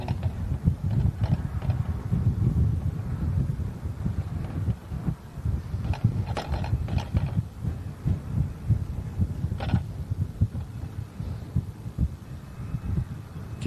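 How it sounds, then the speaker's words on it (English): Strong wind buffets the microphone at an outdoor spot near Manchester airport, producing continuous low rumbling gusts and irregular thumps throughout. "That wind definitely picking up now,"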